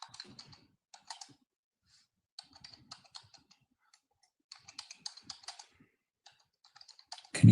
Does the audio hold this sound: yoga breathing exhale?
no